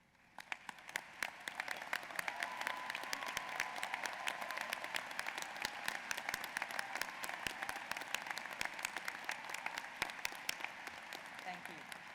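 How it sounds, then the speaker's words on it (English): A large commencement audience applauds faculty and emeritus professors, sustained dense clapping filling a hall steadily for the whole stretch at moderate distance. "join me by honoring them with your applause"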